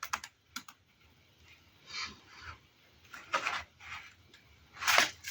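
Paper cut across a 12x12 sheet of patterned paper with scissors or a trimmer, several short rasping bursts with pauses between them, close and fairly quiet, no talking.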